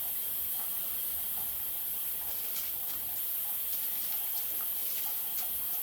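Rice goes into a pot of boiling, spiced water for Hyderabadi chicken biryani, heard as a continuous watery hiss with scattered light splashes and taps, close and without talk.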